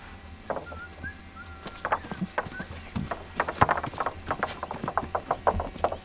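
Small Hutsul horses clip-clop over ground in the mountain village of Lazeshchyna during a sheep drive to high pasture, their hooves striking in an uneven, steady rhythm, with a few birds chirping faintly.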